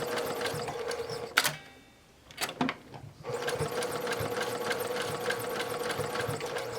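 Sewing machine stitching the curved seams of an axolotl plushie, running in steady loud bursts with a brief pause partway through while the needle stays down for a turn, then resuming.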